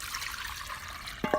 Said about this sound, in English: mixing it well and then straining it to remove any lumps